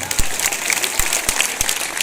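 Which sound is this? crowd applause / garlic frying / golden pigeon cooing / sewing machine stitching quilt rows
crowd applause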